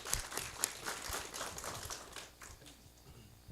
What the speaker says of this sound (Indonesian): Tepuk tangan yang meriah untuk kita semuanya.